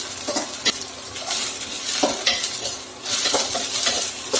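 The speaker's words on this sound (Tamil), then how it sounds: "இப்போ பார்த்திங்கன்னா ஓரளவுக்கு வெண்டைக்காய் வந்து நல்லா வணங்கிடுச்சு." Okra (ladies finger) sautéing in a pan gives a steady, fairly loud sizzle, broken by repeated scraping and clinking as a utensil stirs it against the metal, with no talking.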